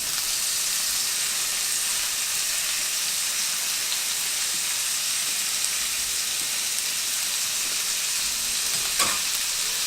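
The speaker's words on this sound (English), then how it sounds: "So now, we've got that oil in there, that lard. It's melting, it's starting to sizzle." Peppers and onions sizzle in melted lard in a pan for fajitas, a dense, steady hiss of frying with faint crackles throughout, close and continuous, with no talk.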